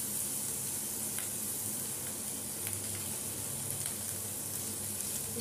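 Onions and ginger garlic paste sizzle steadily in a pan over a medium flame, a continuous close frying hiss with faint stirring, no speech.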